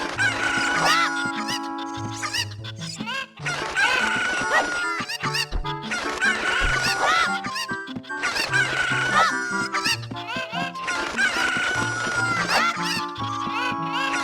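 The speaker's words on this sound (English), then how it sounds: "take all of the cuckoos and throw them into" Cuckoo chickens in The Legend of Zelda: Ocarina of Time's Kakariko Village cluck and crow repeatedly in loud bursts, a gaggle of birds calling over and over with short gaps between clusters.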